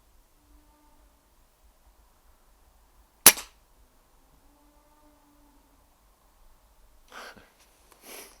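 One sharp, close airgun crack rings out during a night rat hunt, a sudden snap against near silence, followed seconds later by faint rustling and a soft thud.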